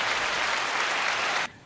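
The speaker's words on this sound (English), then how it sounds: "that's nice applause" Steady, dense crowd applause fills the space at full loudness, then cuts off abruptly near the end.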